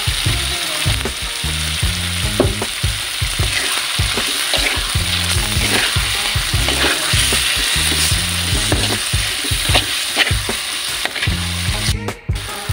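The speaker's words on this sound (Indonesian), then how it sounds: "Sekarang kita masukkan cabai" Green chilies fry in a dryish spice paste with a loud continuous sizzle, while a spatula scrapes and stirs rhythmically against the pan close by.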